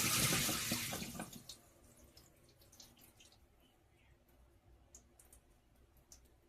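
Boiled potato pieces poured into a strainer, starting with a loud splash and rush of water that quickly fades to faint trickling and scattered drips.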